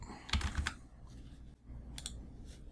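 Fingers tap a computer keyboard in a couple of short bursts of close, crisp key clicks over a quiet room hum.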